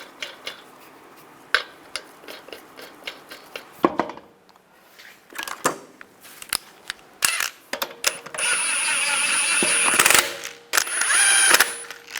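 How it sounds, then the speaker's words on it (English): A ratchet or torque wrench tightens the wheel lug nuts on a Dodge Durango, heard as rapid close clicking bursts and metallic clanks, with a longer sustained ratcheting whir near the end and no talking. "Now I'm going to torque the lug nuts to 130 foot-pounds in a cross pattern to tighten the wheel down evenly."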